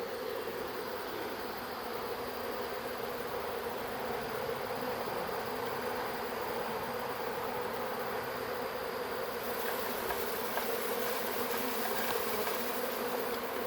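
A thick, unbroken drone of a honey bee swarm crawling over a person after being shaken from a rake, loud and near, keeps going without pause, with a slight brightening of the hiss near the end and no speech.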